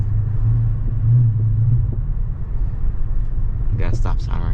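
A 2013 Dodge Super Bee driving along a road, with a steady low rumble of engine and tyre noise throughout and a brief higher hiss near the end.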